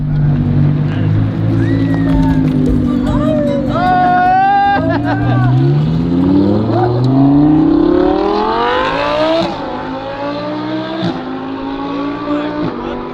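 An Audi R8's exhaust revs loudly and close by, its engine tone climbing and falling in repeated sweeps under excited chatter from a group of people.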